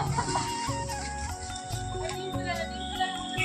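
Sonali chickens on a farm, a rooster among hens, cluck in repeated short bursts close by over a busy, layered background of other birds and faint noise.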